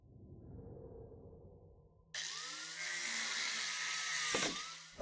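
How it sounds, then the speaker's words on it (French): A shredder machine in a video game switches on abruptly partway through, a loud, steady high whirring grind that holds for several seconds with a brief clunk near the end, following a quieter low rumble. "Oh. Un broyeur."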